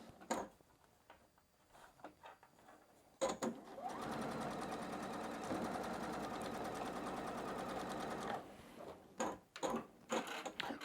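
A sewing machine runs steadily for several seconds, stitching a quarter-inch seam through quilt fabric, with quieter handling and fabric rustle before and after the sustained mechanical whir.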